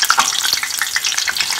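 Jalapeño chiles frying hard in hot oil for a homemade salsa, a dense continuous sizzle with crackling pops throughout, close and loud with no voices.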